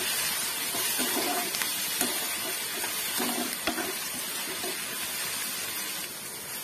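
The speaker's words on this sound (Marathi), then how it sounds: "आता याच्यामध्ये मी थोडीशी अद्रक लसूण आणि कोथिंबीरची पेस्ट टाकून घेत आहे, तीही तेलामध्ये छान फ्राय करून घेऊया" Ginger, garlic and coriander paste frying in hot oil, a steady close hiss and sizzle with faint crackles, alone without talk, in a home-style dry prawn and potato dish.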